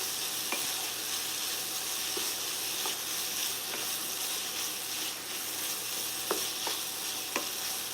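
Tofu scramble being stirred and sautéed in a hot pan, with a steady close sizzle and hiss throughout and several sharp utensil scrapes and taps against the pan near the end, no talking.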